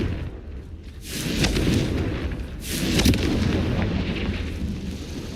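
A Confringo fire spell bursts in the Hogwarts Legacy video game, with two booming, explosive blasts a couple of seconds apart over a dense rumbling background.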